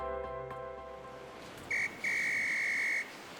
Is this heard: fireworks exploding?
no